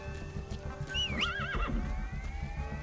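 In Metal Gear Solid V, a horse lets out a wavering, pitch-swooping whinny over steady hoofbeats and a low engine-like hum, close and clear.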